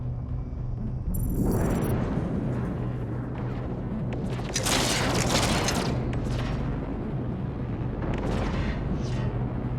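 Ship explosions from a space battle in the strategy game Endless Space 2: a loud, rumbling blast swells around the second second, and a second broad, roaring burst of explosions follows about halfway through, over a constant low game drone.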